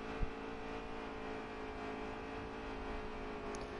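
Race cars in a NASCAR-style video game at Daytona build speed back to pace, a steady low engine drone and whir filling the background with no talk.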